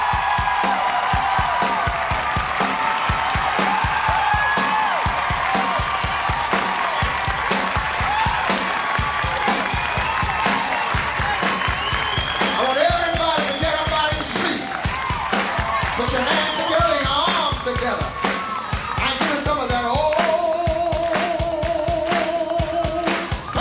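Audience applause and cheering at a 1994 live concert, dense clapping from a large crowd sustained throughout, mixed with music and a voice talking over it.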